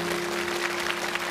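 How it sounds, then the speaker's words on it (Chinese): A television studio audience applauds a pair of contestants on a challenge show; there is a short, even burst of clapping with a steady tone underneath. "但是也把掌声送给两位，继续加油"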